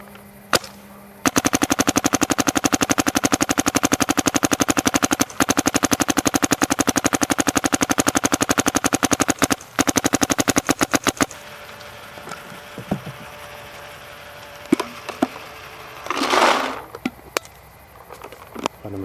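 DM4 paintball marker firing paint in a long rapid string of sharp, evenly spaced shots that stops abruptly, followed by quieter handling noises and a brief burst of air.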